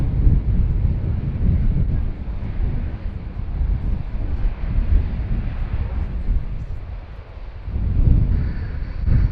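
A German Air Force Airbus A400M landing at an airshow with its large scimitar propellers in reverse thrust, giving a loud, steady broadband roar and rush that swells again near the end.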